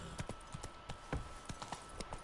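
Horse hooves clip-clopping in The Witcher 3 video game: a steady, fairly close rhythm of hoofbeats over a busy game background.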